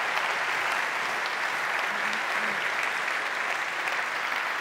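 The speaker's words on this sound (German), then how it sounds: "Ganz herzlichen Dank und einen herzlichen Applaus." An audience at the close of a speech breaks into dense, steady applause, loud and sustained with no talk over it.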